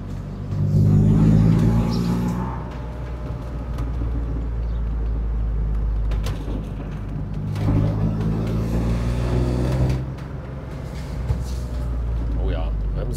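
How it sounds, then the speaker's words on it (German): A BMW M3 E30 convertible fitted with an M52B28 engine, driven on the road, gives a steady low engine and exhaust rumble with brief burbling swells, heard under someone talking over it throughout. "das Nachblubbern wird manchen bestimmt total gefallen"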